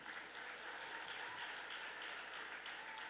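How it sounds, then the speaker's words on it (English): An audience at the Miss Indian World traditional presentations applauds, a steady dense wash of clapping from a crowd held at an even level throughout, with no voices on top. "Let's give her a big round of applause,"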